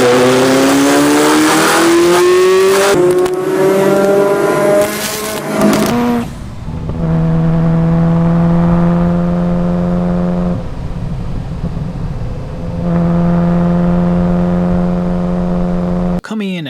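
A Rolls-Royce Wraith engine revs loudly, its pitch climbing through the first few seconds before settling into a steady, droning hum with brief dips and another surge near the end.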